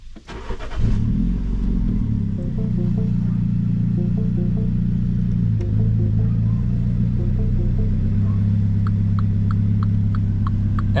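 A Mini Cooper F56 engine cranks and fires up, settling into a steady low rumbling idle with a faint ticking turn signal later on, and no one talking.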